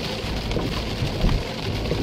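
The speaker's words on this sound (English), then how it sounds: "Hope you can hear me over the rain." Heavy rain drums steadily on a car while driving in Germany, a dense, continuous patter with occasional louder splashes, close and loud with no talking.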